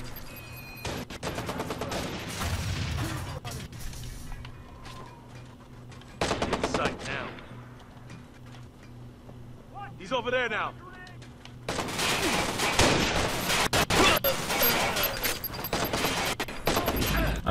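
Bursts of rifle gunfire and other shots in the video game Watch Dogs, loud and fairly close, arriving in clusters across a busy mix with someone talking at moments.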